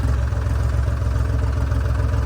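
A 3630 tractor, tilted in deep water-filled pits, idles nearby with a steady low, throbbing chug that holds even throughout, no talking.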